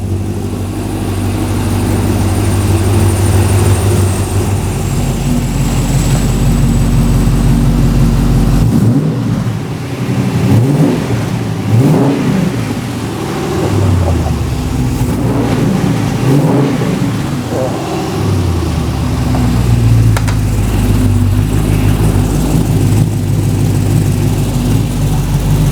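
An Ultima RS kit car's LS3 V8 fires on its first start in a workshop and revs, a loud rumbling engine with rising and falling throttle blips over a steady idle.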